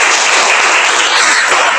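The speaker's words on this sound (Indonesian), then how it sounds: "Beri tepuk tangan yang meriah." A school audience applauding, a dense, loud burst of clapping filling the short moment without talk.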